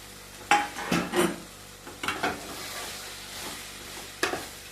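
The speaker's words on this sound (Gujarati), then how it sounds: "તો હવે આપણે એમાં નાખી દઈએ ભૂકો કરેલા રોટલા," Crumbled bajra millet rotla is stirred into a sizzling tempering in a pan, with a few sharp scraping spoon strokes over a quiet, continuous fry.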